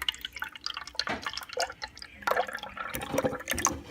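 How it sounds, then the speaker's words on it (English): Half a 1 lb 12 oz can of sauce pours into a baking dish for chicken enchiladas, a thick wet glugging and dripping that stays close and fairly loud for several seconds, with no talking. "now I'm going to pour about half of the can in here"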